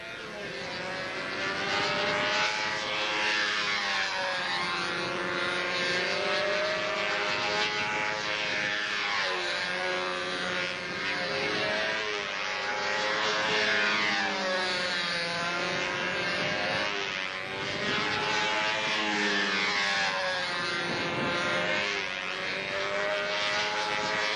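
A model airplane with a propeller engine flies at a competition, its high buzzing drone rising and falling in pitch as it passes through loops and turns, loud and continuous throughout with no talking.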